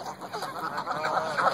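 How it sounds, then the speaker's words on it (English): Ducks quack at a pond in a brief burst of nasal, overlapping honks and quacks, fairly close and loud, with no voices. "I just love to come and feed the ducks."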